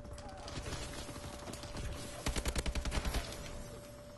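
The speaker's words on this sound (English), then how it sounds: "I love getting sniped." Rapid burst of sniper and automatic gunfire in a first-person shooter game, a loud run of sharp evenly spaced shots near the end over a steady tone and background game noise.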